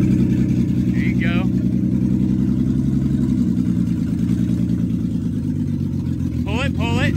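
A Lexus SC300 engine runs at a steady idle-to-low rumble as the car starts moving, loud and close, with people talking and calling out over it.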